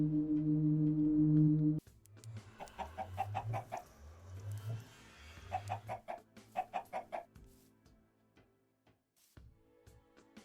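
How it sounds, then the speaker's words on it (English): Minecraft chickens cluck in short, rhythmic bursts, repeated clusters of game clucks following a low droning tone at the start, fairly close and fading to quiet near the end. "I travel back to Earth and bring some chickens into my Tardis"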